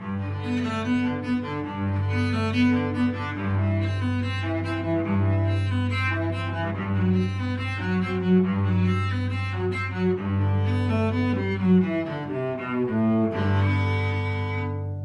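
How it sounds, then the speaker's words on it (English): Sustained, smoothly bowed cello notes, each held for a second or two, flowing into one another in a continuous, resonant melodic line. "And some long sounds on the cello sound like this."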